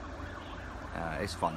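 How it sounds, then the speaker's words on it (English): Sirens wail faintly outside in Hong Kong, a rising and falling tone under a low traffic hum, while a voice briefly speaks nearby. "what you hear now is sirens outside"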